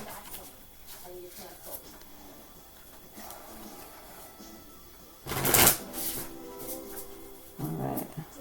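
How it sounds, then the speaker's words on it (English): Tarot or oracle cards are shuffled close by in a few short riffling bursts, with quieter handling noises in between. "A couple more shuffles here."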